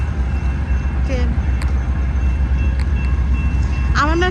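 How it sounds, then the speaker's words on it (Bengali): A train passing near a park, its low rumble running steadily throughout, with short horn-like tones near the start and end; a voice speaks briefly over it. "ট্রেন"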